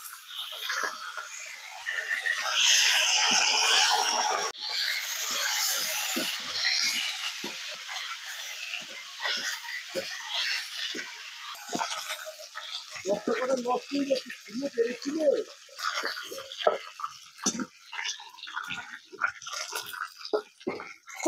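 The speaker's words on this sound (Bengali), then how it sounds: "তেল গরম হয়ে গেছে, এবার যে মাংসটা মাখানো ছিল এটা আমি তেলে ভেজে নেব।" Marinated meat fries in hot oil, a steady crackling sizzle that swells at first and then continues more unevenly with stirring clinks, while someone talks over it.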